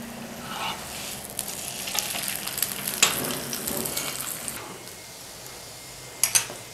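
Besan paratha frying in oil on a pan: steady close sizzling with soft crackles, rising briefly, plus a couple of sharp clinks near the end.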